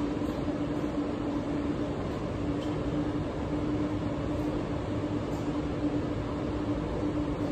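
A train passing on the other side of a city street during a walk toward Stephen Avenue near the +15 Skywalk, a steady, loud rumbling roar of rail cars that holds for the whole stretch with no talk over it.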